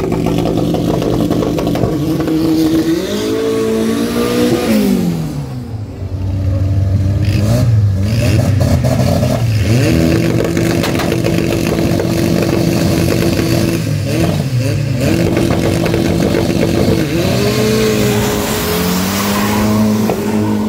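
Drag race between a Volkswagen Voyage and another car on a strip: loud, close engines rev and climb through gears in repeated rising sweeps, with a brief drop partway before both roar on again. No one talks over the engines.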